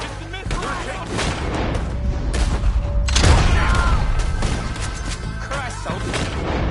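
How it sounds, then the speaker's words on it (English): A missile explosion booms out in Red Dead Redemption 2 amid a dense, continuous barrage of gunfire and crashes, with a heavier burst near the middle; it is loud and close throughout. "It's the missile."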